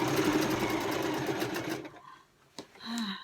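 A sewing machine stitching forward and reverse while sewing a beginner's scrub laundry wash bag, a fast, steady, close mechanical whir that stops abruptly, followed by a few quiet clicks and handling sounds.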